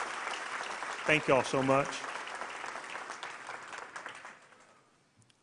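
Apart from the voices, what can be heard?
applause for teachers at a graduation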